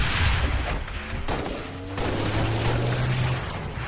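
Rocket fire and gunfire in a Halo Reach capture-the-flag match on the Pit map: dense, continuous volleys of shots and booming blasts, loud and close, with no voices.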